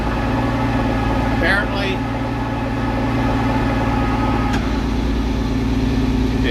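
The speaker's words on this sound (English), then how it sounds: "Fans just kicked in because we're up to 60." A car engine idling steadily with its cooling fans whirring in a constant drone, close and loud, while a voice speaks briefly over it.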